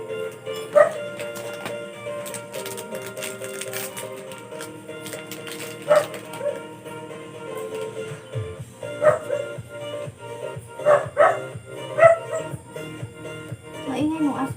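A household dog barks and yips intermittently in short bursts at varying distances in a home kitchen, mixed with clinking and handling noises.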